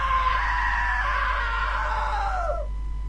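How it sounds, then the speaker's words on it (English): A drawn-out scream in a horror video game, loud and close, starting high and sliding lower over about two and a half seconds before cutting off, over a steady low hum. "Now that was a great scream."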